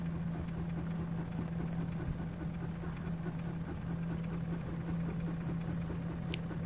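An embroidery machine stitches a quilt with a steady, close mechanical hum and a fast, even rhythmic chatter that carries on without a break. No one speaks.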